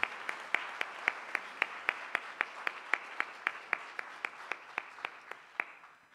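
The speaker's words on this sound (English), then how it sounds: "So let's give Prokaran another round of applause." Rhythmic clapping at a conference on love and service: a steady series of sharp, evenly spaced claps, fairly faint and sparse, like a small audience or a single clapper.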